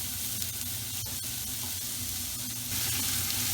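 Chopped onions hit vegetable oil in a pot on medium heat with a loud, close, continuous sizzle, briefly stirred, the hiss swelling louder near the end.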